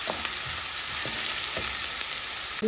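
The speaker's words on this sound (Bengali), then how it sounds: "পেঁয়াজ, রসুন, কাঁচামরিচ কিন্তু আমি ভেজে নিলাম" Onion, garlic and green chillies fry in hot oil, giving a steady close sizzle that runs the whole time with a few faint stirring knocks.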